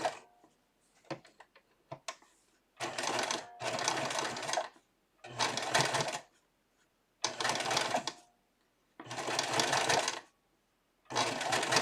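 A sewing machine stitches fringe onto doll clothes, running in about five loud, close bursts of rapid mechanical whirring separated by pauses and a few small clicks.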